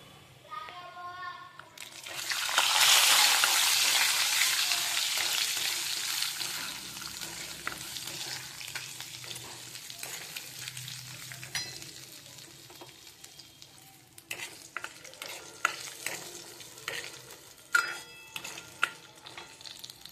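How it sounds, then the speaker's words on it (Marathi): Onion and garlic paste hisses loudly as it hits a hot pan for a Kaju masala, the sizzle easing into a steady fry with sharp stirring clinks toward the end and faint voices in the background. "आणि कांदा लसूणची पेस्ट घालते। आता लालसर होईपर्यंत आपल्याला परतवायचं आहे।"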